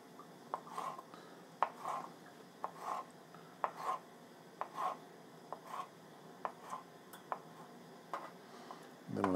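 A knife slices a pepper into thin pieces on a cutting board, making a steady series of close, crisp cuts, each followed by a soft tap, at an even, unhurried rhythm.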